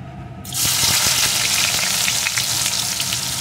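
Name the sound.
chopped onion frying in hot oil in a wok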